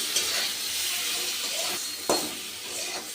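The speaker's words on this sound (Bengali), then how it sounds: "এবার সব সবজিগুলো ভালো করে কষে নিচ্ছি" Vegetables sauté in a pan with ginger and dried red chilli paste, a close hissing sizzle with a few sharp scraping stirs.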